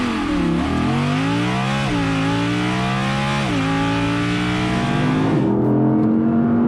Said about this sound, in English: I'm gonna have a play with the engine